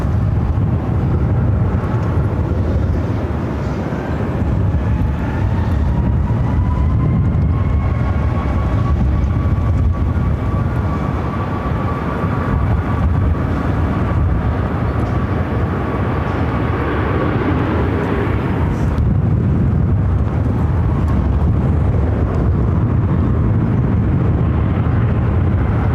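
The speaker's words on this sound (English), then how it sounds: "Southwest 406, runway 25 right, clear for takeoff" A Southwest Airlines jet takes off from runway 25 right at Phoenix, a steady loud roar of jet engines that holds and builds for most of the stretch, then eases near the end, with no one talking.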